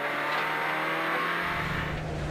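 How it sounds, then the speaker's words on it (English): Rally car engine at a forest rally stage, idling and then revving up with a deeper roar partway through, loud and close with steady engine drone and no talk. "Start an engine."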